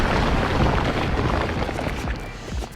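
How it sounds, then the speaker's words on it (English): A video-game explosion effect from Danganronpa Another Episode: Ultra Despair Girls, a loud, booming blast with a deep rumble that sustains and slowly fades over a few seconds. "As if my skull has ruptured, the sound of an explosion thunders out."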